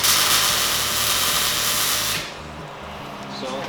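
Welding over a rust-proofing coating on a car panel, a loud continuous hissing crackle for about two seconds that then cuts off, leaving a softer background hiss and faint sizzling.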